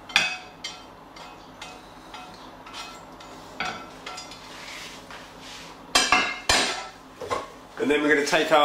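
Cooked potatoes being mixed into beaten egg in a bowl for a Spanish vegetable omelette, with repeated clinks and scrapes of utensil against the bowl, irregular and close, growing busier toward the end.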